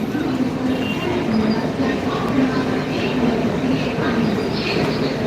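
A metro train rumbles steadily through a metro station, with a continuous loud roar of wheels on rails and faint voices mixed in underneath.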